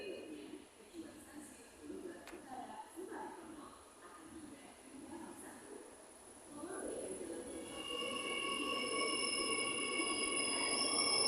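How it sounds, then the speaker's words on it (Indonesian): An LRT Jakarta train arrives at a station, its rising rumble and high-pitched electric whine swelling over the final seconds, with pigeons cooing and a voice speaking earlier. "sebentar lagi kereta saya akan datang nih tepat pada pukul"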